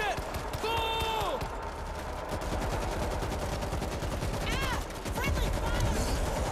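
Gunfire in the World War Z video game: dense, continuous rapid shots over a busy game mix with whooshing effects, sustained and moderately loud, with no voices.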